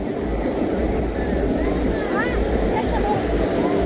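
Tad Lo waterfall in Salavan province, Laos, gives a steady, broad rushing roar of falling water, with people talking over it and a few faint bird-like chirps.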